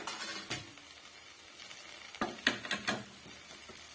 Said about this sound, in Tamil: கொத்தமல்லி இலையை சேர்த்துட்டு நல்லா இது போல கிண்டி விட்டுக்கோங்க